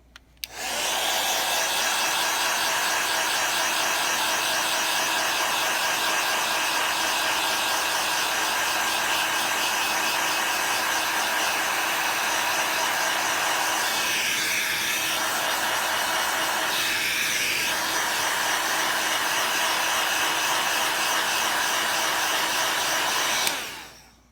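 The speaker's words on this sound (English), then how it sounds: "Let me turn the heat gun back on, y'all." A heat gun blows hot air steadily for over twenty seconds, a loud, close, continuous whooshing hiss that starts abruptly and cuts off at the end.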